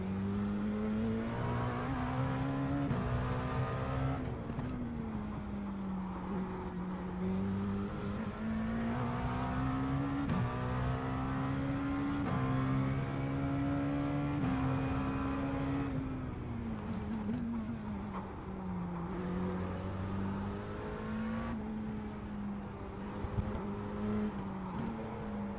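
GT3 race cars lap Long Beach in a sim racing game, one engine droning steadily with rising and falling pitch through gear changes and revs, sustained throughout without talk.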